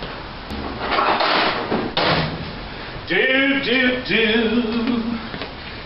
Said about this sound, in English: Get a pry bar in there.